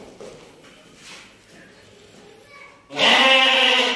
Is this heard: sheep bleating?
yes